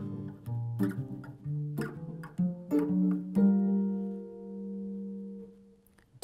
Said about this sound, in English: When I put it all together and play it ascending, it sounds like this.